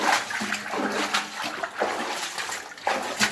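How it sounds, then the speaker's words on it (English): Feet wade and splash through shallow water inside an old mine tunnel on Mount Karangahake, New Zealand, giving close sloshing steps with echoing drips throughout. "I'll get back through the water here."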